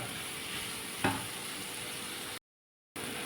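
Garlic, cashews and coriander leaves fry in a pan for a chicken tikka masala, giving a steady close sizzle with a brief stir clatter near the start, then a short cut to silence before the sizzle returns.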